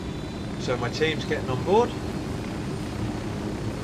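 Helicopter in the video game Ghost Recon Wildlands, a steady low rotor-and-engine drone holding evenly throughout while someone talks over it.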